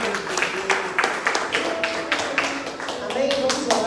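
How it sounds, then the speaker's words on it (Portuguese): A Pentecostal church congregation claps for Jesus at an evening service, with sharp, evenly spaced claps in a steady rhythm. Voices carry along underneath the clapping. "As palmas para o Senhor Jesus."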